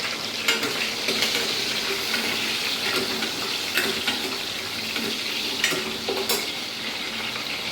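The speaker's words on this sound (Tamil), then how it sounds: "கடுகு வந்து நல்லா வெடிக்கணுங்க." Mustard seeds spluttering in hot oil while making potato kurma, a steady close sizzle with scattered sharp pops and crackles over a constant hiss.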